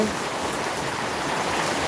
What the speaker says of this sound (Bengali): এখানে প্রচুর পরিমাণে বৃষ্টি হচ্ছে